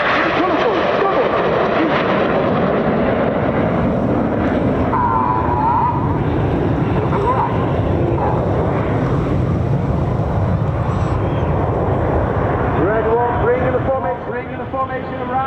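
Red Arrows Hawk T2 jets fly a formation display at Bournemouth Air Festival 2022. A steady, fairly distant jet roar mixed with wind sits under continuous loudspeaker commentary.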